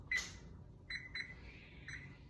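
Electronic beeps sound as a kitchen oven timer is set for homemade bread, a few short high-pitched chirps spaced about a second apart, fairly faint over a low background hum.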